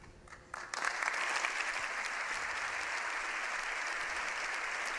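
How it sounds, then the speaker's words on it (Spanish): Members of the Spanish Congress and Senate burst into a loud ovation welcoming Pope Leo XIV in the parliamentary chamber. After a brief quieter start the clapping swells and holds steady and dense, filling the hall. "La primera ovación de los miembros del Congreso y Senado de bienvenida al Papa León XIV."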